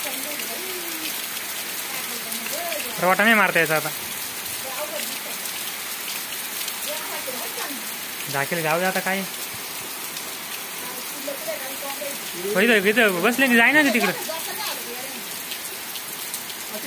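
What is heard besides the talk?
heavy rain falling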